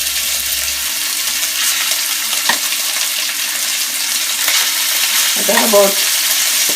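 Meat sizzles steadily as it browns in a pan of vegetable oil over high heat for Jamaican pork and beans, a loud continuous frying hiss with someone talking briefly over it.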